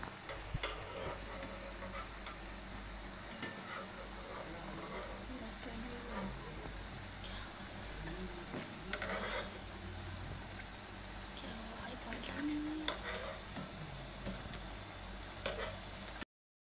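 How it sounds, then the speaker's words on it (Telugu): Wheat flour biscuits frying slowly over a low flame give off a steady, soft, even sizzle that runs the whole length, with a voice speaking faintly at times. "లో ఫ్లేమ్ మీదనే వేయించుకోవాలి. హై ఫ్లేమ్ మీద వేయించుకోకూడదు."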